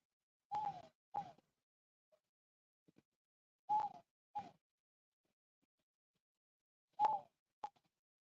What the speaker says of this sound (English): Hey, Blackbird.